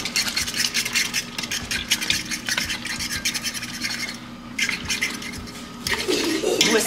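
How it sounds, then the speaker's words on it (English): Five eggs whisked in a bowl at home: quick, steady metallic scraping and clinking of the whisk against the bowl, rhythmic and close, continuing throughout with brief pauses. "Whisk it up a little bit."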